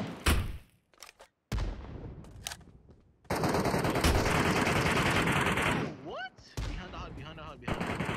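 Gunfire in the mobile video game PUBG Mobile Metro Royale, loud bursts of automatic fire and single shots with gaps between them, plus a short whistling effect near the end, no speech over it.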